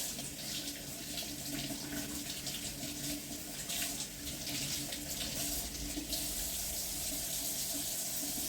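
A kitchen tap runs steadily while meat is washed under it, water splashing with some fluctuation in the middle, continuous and fairly close.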